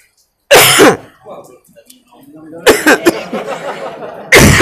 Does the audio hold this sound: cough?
yes